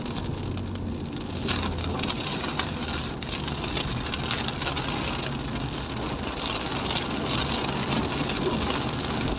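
Rain patters steadily on a moving car travelling a rough road between Pulo Pakkat and Janji Maria, with a low engine drone underneath and no talking.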